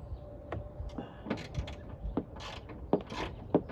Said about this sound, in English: 6-inch extension and a ratchet just to get at it